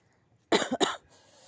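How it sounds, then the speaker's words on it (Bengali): A person with a mild cold gives two quick, close coughs in succession, followed by quiet. "হালকা পাতলা একটু কাশি সর্দি কাশি কিন্তু সবারই এখন"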